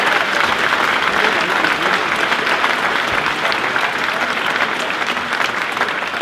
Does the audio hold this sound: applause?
yes